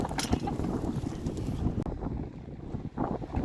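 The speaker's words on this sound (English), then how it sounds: "It is pretty windy out here" Strong wind buffeting the microphone in gusty rumbling bursts, loud and close, with no talking.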